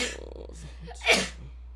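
A single sharp sneeze bursts out near the end, preceded by a quiet intake of breath.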